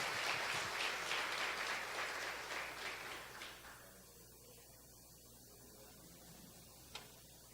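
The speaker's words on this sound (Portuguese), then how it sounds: "Você pode aplaudir ao Senhor por isso?" Applause from a congregation at a church worship service, quiet and distant, holding for about three seconds before fading into a hushed room, with one sharp tap near the end.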